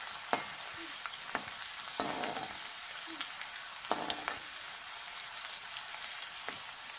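Chopped ginger and garlic sautéing in oil in a pan for Kerala-style lemon pickle, with a steady soft sizzle and several sharp spoon scrapes and clinks against the pan at irregular intervals, no voices.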